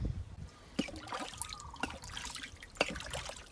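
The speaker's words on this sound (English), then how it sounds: "I'm gonna add a little of the Monstera FPJ as well" Monstera fermented plant juice is poured into a compost tea brew, a faint thin trickle with scattered drips and small splashes, quiet and alone.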